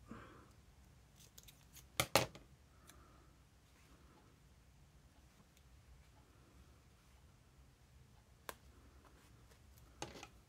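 Scissors snip through mixed media tape art, with a few sharp cuts close up around two seconds in and isolated clicks later, against a quiet room background.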